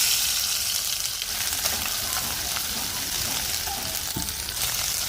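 Ginger garlic paste fries in hot oil for a paneer curry, giving a loud, steady hiss and sizzle close by with occasional crackles throughout.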